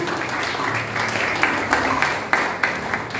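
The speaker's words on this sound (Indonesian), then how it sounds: "Ayo beri tepuk tangan bagi Roh Kudus dan bagi Yesus" A church congregation claps during a sermon, a broad wash of hands with a few sharper, louder claps punctuating the last seconds.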